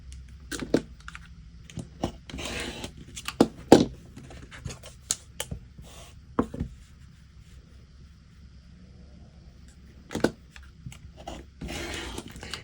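Rotary cutter or blade slicing through a quilting fabric strip along a Glare Quilt template, heard as scattered short crisp ticks and scrapes with quiet gaps between bursts near the start, middle and end.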